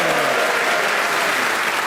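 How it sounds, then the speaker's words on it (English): A studio audience breaks into loud, dense applause at the close of a comedy panel game, a steady wash of clapping that fills the space without any voices over it. "A round of applause for the two"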